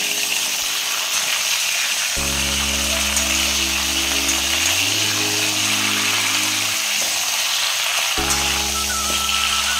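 Mango pieces fry in hot mustard oil with five-spice and dried chilli for a mango pickle, a dense continuous sizzle heard close, with a steady low mechanical hum running underneath that drops out briefly and then returns.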